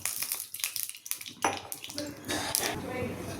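Castor oil poured into a frying pan for a Coimbatore-style sea fish curry, a splashing, pouring wash that turns into a steady broad hiss after a sharp onset, with voices talking alongside.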